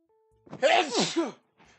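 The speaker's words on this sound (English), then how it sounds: "I just can't stop sneezing." A single loud sneeze up close, a quick intake followed by a sharp explosive burst, then a faint short trailing sound.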